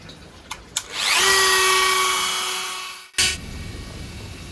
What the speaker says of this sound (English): So I'm using the Cut Saw Extreme flame burr, and yes, the wood was hard.